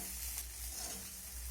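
Flattened rice (chira) stirred in a pan with fried nuts, curry leaves and raisins makes a soft, continuous sizzle and scrape, quiet and steady, with no voices.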